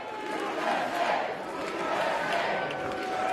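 A large crowd boos as a man walks in, a sustained, fairly distant roar of many voices that holds steady for several seconds.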